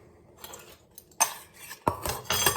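Dishes and cutlery being washed at a home kitchen sink: metal utensils clink and rattle against plates in several sharp bursts, close and fairly loud, with no talking.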